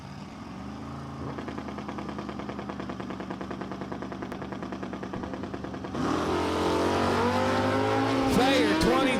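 Pro Mod drag racing cars idle with a rapid, rattling engine throb at Empire Dragway, then launch down the strip with a sudden louder roar and rising engine whine, heard under an announcer's voice.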